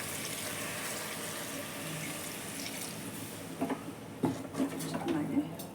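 Water is poured into a pot of ground masala for a village-style chicken sambar. A soft, steady splashing runs beneath quiet background noise, with a few clinks and sloshes near the end.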